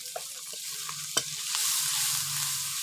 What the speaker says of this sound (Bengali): এই দেখুন আমি মশলাটা ভালো করে কষিয়ে নিচ্ছি।